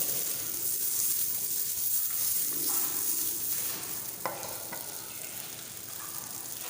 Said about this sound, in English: After adding the beans, you can toss it in the butter.